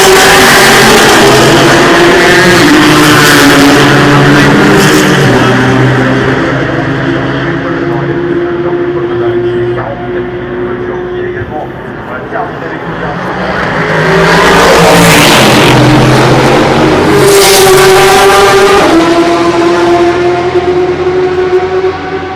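Race cars, Porsches among them, roar past during the 2016 24 Hours of Le Mans. Loud engines rise and fall as they pass close by, and a second car swells to a near peak before fading away.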